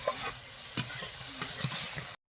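Pumpkin greens with salt fry in a pan, a close sizzle broken by a few stirring scrapes before stopping abruptly.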